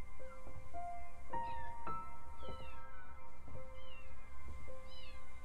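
Several cats meow in the video game Copycat, a series of short, bright, separate meows over a pulsing background hum.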